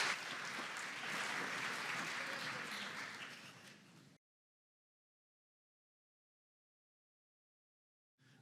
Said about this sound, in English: Please welcome to the stage with a warm round of applause, Ben Linders.